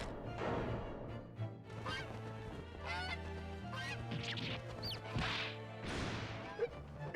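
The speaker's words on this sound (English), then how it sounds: "Swan attack!" Game sound effects for a swan attack in The Great Ace Attorney Chronicles: loud goose-like honks and squawks mixed with whip cracks and thwacking hits, bursts repeating over a low musical backing.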